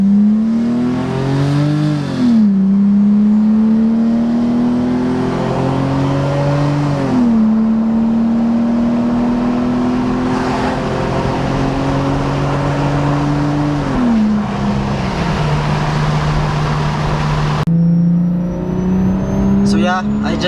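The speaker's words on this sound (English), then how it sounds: "If I can just show you guys how this car pulls away" A BMW E46 pulls away from inside the cabin, its loud engine note climbing and dropping through several gear changes over about twenty seconds, with a steady drone between shifts.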